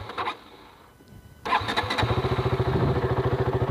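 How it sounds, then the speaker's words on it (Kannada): A KTM RC 200 BS3 motorcycle in neutral starts up close by: a brief starter whirr, then the single-cylinder engine catches and settles into a steady, loud, rhythmic idle exhaust note with no talking. "ನಿಮ್ಗೆ ಎಕ್ಸಾಸ್ಟ್ ನೋಟ್ ಒಂದು ತೋರಿಸ್ಬೇಕಲ್ಲ, ಎಕ್ಸಾಸ್ಟ್ ನೋಟ್ ತೋರಿಸ್ತೀನಿ."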